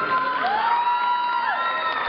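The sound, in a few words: audience cheering and applauding at a dance exhibition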